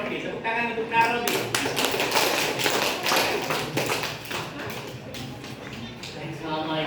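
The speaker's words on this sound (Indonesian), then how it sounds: "Tepuk tangan untuk Nak Robi." A school audience at a religious education debate selection claps for the debate moderator, dense loud clapping and tapping sustained for several seconds with some voices mixed in.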